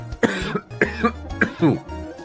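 Several harsh coughs in quick succession, close and fairly loud, with brief pauses between bursts.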